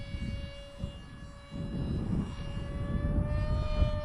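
A front-mounted, tractor-engine Aeroscout radio-controlled plane flies overhead with a steady, droning motor whine that holds a constant pitch and swells slightly louder midway, heard outdoors on a spring day with no talking.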